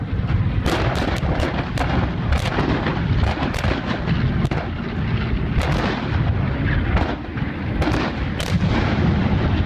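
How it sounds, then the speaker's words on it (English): Timed fuel explosions go off at an air show wall-of-fire demonstration, with a dense rumbling roar punctuated by repeated sharp booming blasts in irregular succession, loud and sustained throughout. "a controlled air show demonstration using timed fuel explosions"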